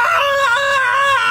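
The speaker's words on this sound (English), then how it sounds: "Scream." A single person lets out a loud, sustained scream at close range, holding a high strained pitch for over a second with slight wavering and no other voices.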